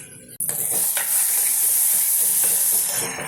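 A spoon stirs a sizzling curry of broad beans and small onions in a hot pan, with continuous loud frying hiss and a few soft scraping strokes against the pan, no talk.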